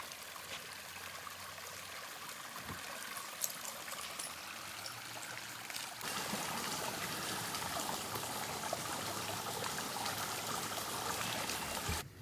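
Garden waterfall at Chateau de Chaumont trickling steadily over its edge, a continuous close splashing wash that thickens and grows louder halfway through as more water flows.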